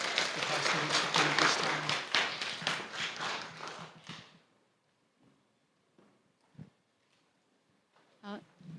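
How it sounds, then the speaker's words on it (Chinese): A church congregation at an outdoor Taiwanese-language park worship service claps in thanks to God: a dense burst of many hands for about four seconds that then falls away to near silence with a few scattered taps. "可以拍手感谢神"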